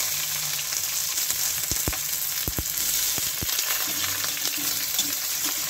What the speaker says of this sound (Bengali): তারপরে এখন দিয়ে দেব পেঁয়াজ।